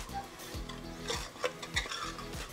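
Black chana masala with red chili powder being sautéed in a pan: a spoon scrapes and stirs in repeated strokes over a soft, steady sizzle, with a few sharper clinks of metal against the pan.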